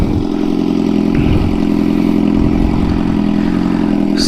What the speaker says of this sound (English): Ito ang aking bagong exhaust